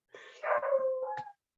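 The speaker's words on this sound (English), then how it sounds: "Sorry about the dog." A single dog barks once, a short yelping bow-wow close by in an otherwise quiet room, during an indoor training session.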